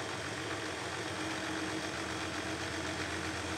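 An engine fitted with an 8-volt generator regulator conversion idles steadily, a constant close mechanical hum and rumble with no change in speed throughout.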